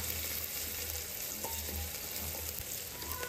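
Chili, ginger and crushed garlic frying in a pan, a soft continuous sizzle with faint stirring taps and scrapes, no talking.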